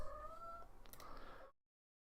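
A house cat meows indoors in one drawn-out, moderately loud call that rises and then trails off. A softer, higher squeak follows before the sound cuts to silence.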